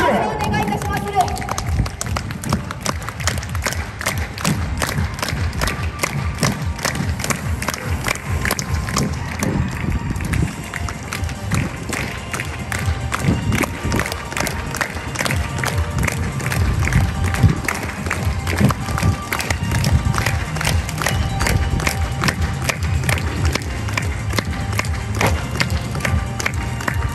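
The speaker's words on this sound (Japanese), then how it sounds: "さあ皆様、 手拍子を手拍子をお願いいたしまする" An outdoor crowd at a samurai costume event in Fukuoka claps along in a steady rhythm, a long run of regular, evenly spaced hand claps under announcer-style talk and wind noise.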